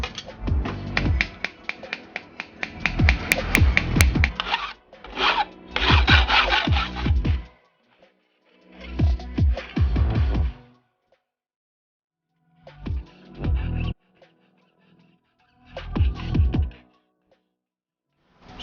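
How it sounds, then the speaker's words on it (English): A file dresses the edges of a thin 0.5 mm copper spatula in several bursts of dry, raspy rubbing strokes, close and fairly loud, with short silent gaps between the passes. "and then we'll dress it properly with a file."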